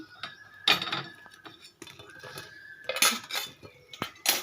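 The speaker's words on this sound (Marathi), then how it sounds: "मी ते काढून घेते आहे प्लेटमध्ये." Freshly cooked appe (appam) being lifted out of the pan onto a plate, heard as a series of close metallic clinks and scrapes of utensils on cookware in a home kitchen.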